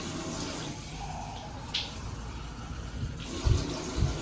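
Water is poured from a bowl into a cooking pot of potato kofta curry: a steady, fairly quiet splashing pour lasting several seconds, with a couple of brief clunks near the end.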